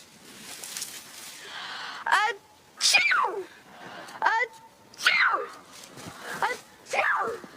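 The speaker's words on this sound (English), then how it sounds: "just started sneezing and now she can't stop" Several sharp sneezes in quick succession, five or six bursts spaced about a second apart, close and loud, with some muffled background noise between them.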